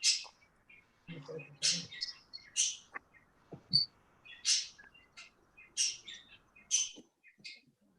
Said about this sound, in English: Somebody's got a noisy bird.